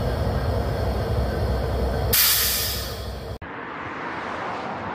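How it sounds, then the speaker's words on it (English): At a Norfolk Southern railyard, a train approaches with a steady rumble and a loud, broad hiss that swells, then cuts off abruptly, leaving quieter rolling noise. No one speaks. "Hear the sounds of an approaching train."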